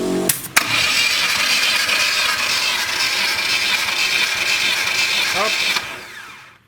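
A VAZ 2106 engine with an oil-burning, misfiring, knocking fault cranks with a brief starter whir, then catches and runs loud and steady for several seconds before dying away.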